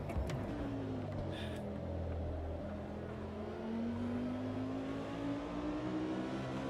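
Race car engine in a racing video game held at high revs through a long rear-tyre slide, pitch rising and falling steadily with throttle, loud and continuous with no talk.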